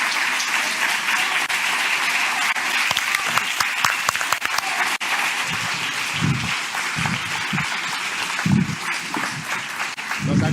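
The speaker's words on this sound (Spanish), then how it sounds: "Un aplauso, por favor" An audience at a crime-novel award event in Cartagena applauds for an author being introduced, loud sustained clapping with occasional low thumps and faint voices mixed in.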